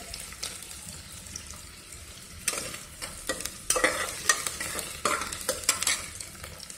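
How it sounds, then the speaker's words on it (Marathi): Onions for a homemade mutton curry sauté in a pan, a low sizzle running under repeated scraping strokes of a spoon that grow louder and busier partway through, heard up close with no talking. "कांदा छान गुलाबी रंगावर परतून आल्यानंतर परतल्यानंतर"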